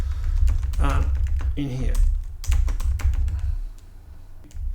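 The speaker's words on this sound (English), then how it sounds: "Good typing today" Computer keyboard typing, a run of close, quick key clicks under and between a man's speech.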